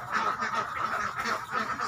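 Laying ducks quacking in a flock, a loud continuous chorus of overlapping nasal quacks from several birds close by, with no one speaking.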